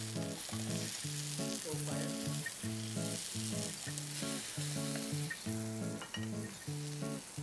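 Meat for a Brazilian-style barbecue fries in a pan over lowered heat, a loud, continuous sizzle and crackle with a repeating tonal pattern, likely background music, running beneath it.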